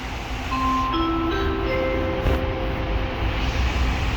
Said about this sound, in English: Monorail. It's been here for since the World Fair, since the 60s.